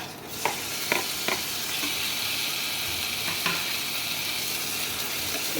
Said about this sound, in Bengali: পেঁয়াজটা লাল লাল করে ভাজতে হবে বন্ধুরা